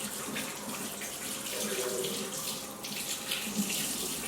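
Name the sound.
washing hands under a kitchen tap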